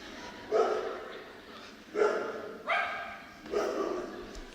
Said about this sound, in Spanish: escuchen al perrito